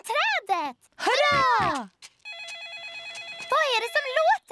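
In a Peppa Pig cartoon, Daddy Pig's mobile phone rings with a bright, repeating electronic warble, close and steady, between animated character voices speaking before and over it.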